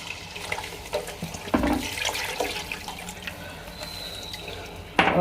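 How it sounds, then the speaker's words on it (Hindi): Two cups of milk pour into a pan of fried flour for a white sauce, a soft, close splashing gurgle with small bumps and a sharper clink near the end. "इस स्टेज पे आप 2 कप दूध शामिल कर दें"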